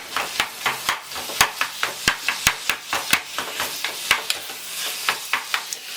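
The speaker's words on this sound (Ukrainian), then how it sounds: "починаємо закидати туди фарш" Ground beef and softened vegetables fry in a pan for bolognese sauce, a steady sizzle broken by sharp, rhythmic scraping knocks of a utensil stirring and breaking up the meat, close and clear with no talk.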